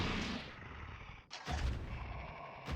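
Flintlock gunfire in the video game Sanity's Requiem: two loud, sharp shots about a second apart, each with a booming low tail, followed by the start of a third blast at the end.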